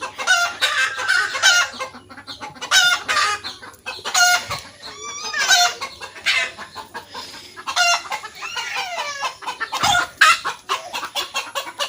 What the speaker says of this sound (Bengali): ডিম পাড়া হয়ে গেলে এইভাবে চিৎকার করতে থাকে।